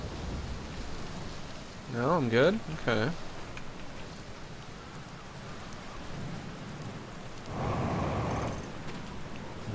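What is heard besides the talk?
thunder and rain in video game Outer Wilds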